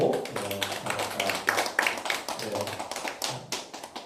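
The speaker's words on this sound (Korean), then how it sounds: "박수로 우리 축복하고" Church congregation clapping during a Sunday worship service, a fairly quiet patter of hands heard with musical tones and some voice in the room.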